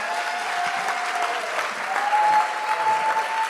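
An audience at a book event applauds steadily throughout, a dense, even wash of clapping with a faint sustained tone running under it.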